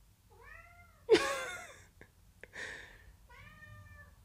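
A cat meows several times, with drawn-out tonal cries at the start and end and a louder harsh yowl in between. The cries come over faint background noise with some light handling sounds.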